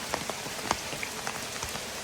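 Steady rain pattering on umbrellas outdoors in Northland, a close, dense patter with sharper individual drop taps scattered throughout and no talking.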